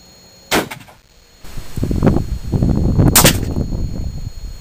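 Rifle fired at a target through a scope, two loud sharp cracks a few seconds apart, with rumbling handling noise and echoes between them.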